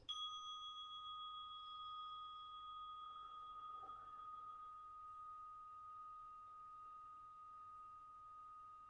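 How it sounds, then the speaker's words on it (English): A single meditation bell struck once, its clear pure tone ringing out and sustaining softly for many seconds in a quiet room with no talking. "In a moment, the bell will ring to get us started"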